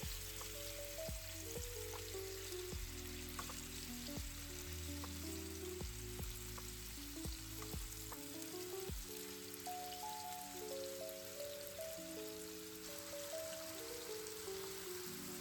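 Seasoned chicken pieces for buffalo chicken tacos frying in hot oil, a steady close sizzle with scattered pops and crackles running alone throughout.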